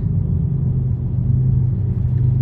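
Deep, steady exhaust rumble from a 10th-generation Honda Civic Si heard from inside the cabin, loud and continuous with a low droning tone.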